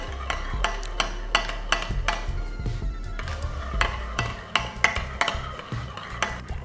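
A seasoning mix of Italian seasoning, ground black pepper and Creole seasoning is stirred in a bowl with a utensil, giving repeated close scraping and clinking strokes in a steady rhythm, with no talking.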